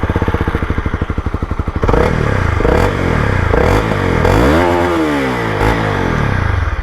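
A Honda CB250R motorcycle idles with a rapid rhythmic exhaust putter, then revs up and down several times, loud and close.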